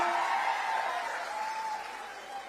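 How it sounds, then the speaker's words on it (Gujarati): Applause from a large crowd at an Aam Aadmi Party political rally for the tribal community, a dense, steady wash of clapping that stays loud throughout, with a faint sustained tone running underneath. "માનનીય ભગવત માન સાહેબ પંજાબના મુખ્યમંત્રી એ પણ આપણી વચ્ચે છે અમને પણ એકવાર તાળીઓથી વધાવીશું"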